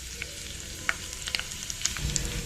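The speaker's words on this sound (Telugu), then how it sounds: "రెడ్ చిల్లీ పోపు గింజలు కూడా వేసేసుకున్నాము. సరే, ఇవి ఫ్రై అవుతూ ఉన్నాయి." Red chilli and seasoning seeds frying in a small pan give a soft, steady sizzle with a few brief crackles and pops scattered across it, and no voices are heard.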